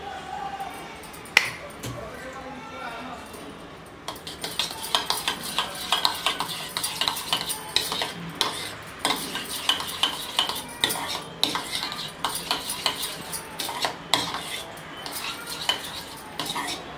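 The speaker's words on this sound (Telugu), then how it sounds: "చక్కగా కలిసిపోయే వరకు కలుపుకోవాలండి." Aloe vera gel being stirred into a homemade orange skin cream, a spoon clinking and scraping against a small bowl in quick repeated strokes, close and fairly loud, with no talk.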